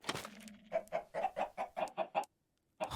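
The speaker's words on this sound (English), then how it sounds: "Wait, is this a chicken farm?" Minecraft chickens cluck on a video-game chicken farm in a quick run of about eight evenly spaced clucks, close and clear, then brief silence before another cluck starts.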